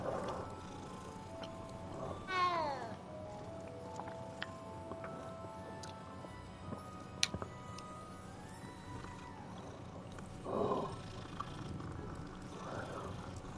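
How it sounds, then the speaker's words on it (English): Big cats in a Hogwarts video game make a rising, growly call around the early seconds and a softer one later, over a low ambient game backdrop. "Look at the kitties."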